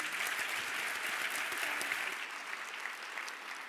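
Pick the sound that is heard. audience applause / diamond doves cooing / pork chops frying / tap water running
audience applause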